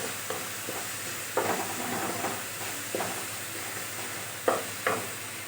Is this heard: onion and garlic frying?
yes